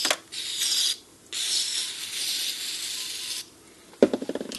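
Spray hisses in short bursts into the switches of a NuTone Model 2057/2058 intercom during a rebuild, followed by a quick series of close mechanical clicks as a switch is worked.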